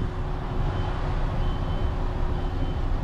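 A truck backing up in a driving-test manoeuvre gives off a steady, continuous beeping over a broad, loud engine rumble, with no voices.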